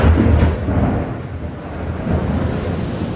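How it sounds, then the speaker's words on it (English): Loud thunder rumbles through a thunderstorm, a deep rolling boom that swells and fades over several seconds, mixed with rain hiss, heard from inside a car. "Especially there's like lightning and thunder like this."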